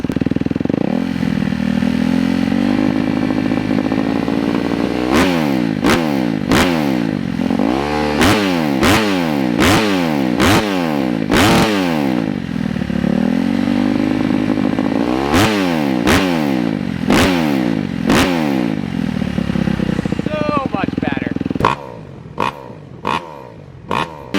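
A Kawasaki KX250F dirt bike engine revs repeatedly, pitch climbing and falling in sharp bursts, loud and close, ending in a few quick blips.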